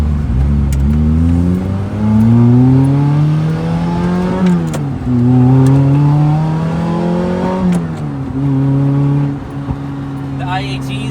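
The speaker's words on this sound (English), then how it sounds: "It's like a surround sound intake induction noise." Lotus Elise with a 2ZZ-GE engine and custom cold air intake, revving loudly up and down in three long, rising pulls with a strong induction roar, heard close and alone.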